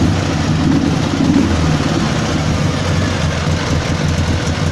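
A Dnipro 11 motorcycle engine runs at a steady idle, with a loud, continuous low mechanical throb and rattle, and no one speaks.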